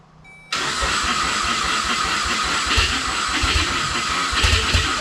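A rear-wheel-drive converted Ford Fusion engine cranks and churns steadily and loudly after a sudden start, keeping a rough, continuous grinding drone for several seconds without clearly settling into an idle.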